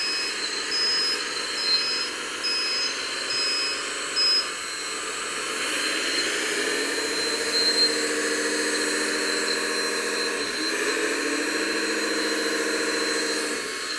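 Simulated diesel engine sound from a JDM-88 870K metal 1/14-scale RC hydraulic loader, a steady electronic drone that swells and holds at a constant loud level with small pitch shifts, playing alone without talk.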